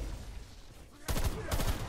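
Rapid gunfire in Black Ops Cold War Zombies breaks in after a second of low game ambience, two loud bursts of quick shots close and punchy.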